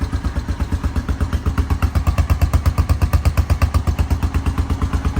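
A Honda Foreman 450 ATV engine starts up and settles into a steady idle, a close, loud rhythmic chugging with a regular mechanical clatter that runs evenly throughout.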